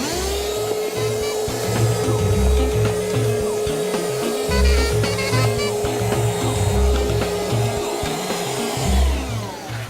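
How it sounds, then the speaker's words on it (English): A vacuum cleaner whines loudly and continuously up close, sucking up brown marmorated stink bugs, with rattling, knocking sounds as the nozzle bumps and scrapes across surfaces. "It'd be much easier to simply get these guys with a vacuum."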